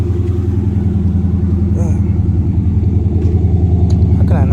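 A straight-piped V8 Chrysler 300 idles just after a cold start, a steady, loud, deep rumbling throb that holds evenly throughout with a faint voice briefly over it.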